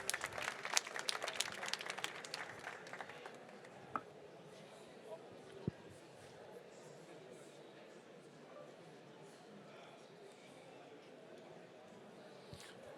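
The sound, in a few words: audience applause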